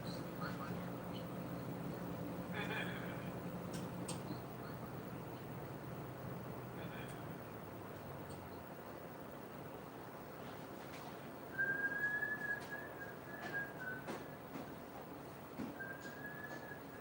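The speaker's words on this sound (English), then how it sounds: "this fan's gonna take a while to turn off" An indoor fan runs beside an air conditioner with a steady, moderately loud broadband whir over a low hum, joined by brief thin whistling tones and faint background voices.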